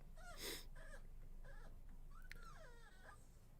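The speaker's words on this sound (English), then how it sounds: "It's a puppy cry" A puppy whimpering and crying in short high-pitched whines and yips, several rising and falling cries in a row, faint and somewhat distant.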